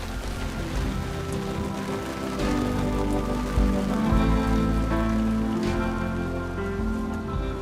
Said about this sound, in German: Gut, dass uns dieser Platzregen nicht auf einem Gang erwischt hat.